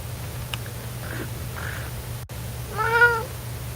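A cat gives one clear, drawn-out meow near the end, after a few faint chirps. Quiet background hum runs throughout, and no one speaks.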